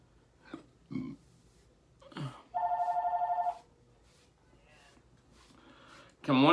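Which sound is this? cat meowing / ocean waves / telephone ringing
telephone ringing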